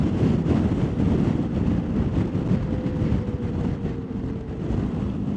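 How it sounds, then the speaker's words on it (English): Gale-force wind buffeting the camera microphone on a winter motorcycle tour of Scotland aboard a BMW R1250GS, a constant heavy low rumble with gusty fluctuations filling the whole stretch, no speech. "My word, it's windy though. I'm sure you can hear it on the camera."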